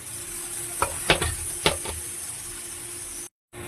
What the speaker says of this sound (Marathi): मसाल्याला चांगली उकळी आली आहे, मस्त गरम झाला आहे